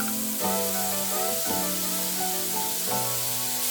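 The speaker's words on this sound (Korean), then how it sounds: "팬을 중불에 올려서 식용유 살짝 뿌리고 팽이버섯은 한입 크기로 뜯어서 올렸다" Bite-size torn enoki mushrooms fry in a lightly oiled pan over medium heat, giving a steady soft sizzle beneath louder background music.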